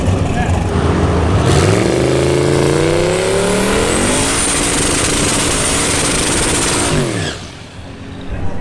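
An LS-engined drag car at LS Fest launches and accelerates hard, its engine roaring loud and rising in pitch through several gear changes, then fading as it moves away down the strip.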